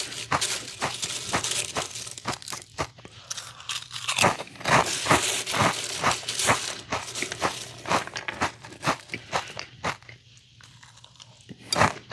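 Chester's Cheetos snacks crunch loudly in close bites, followed by rhythmic chewing and occasional bag crinkles, steady and near with brief quieter pauses.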